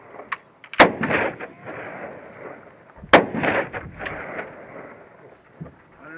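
Gunshots at a shooting gallery: two loud, sharp blasts about two seconds apart, each trailing into a rumbling echo, with faint handling noise between.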